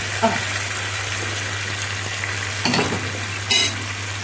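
Tomatoes and peppers simmer together in a pan for an egg omelette dish, a steady close sizzle with a low hum and a couple of brief clinks or stirs.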